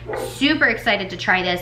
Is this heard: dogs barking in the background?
yes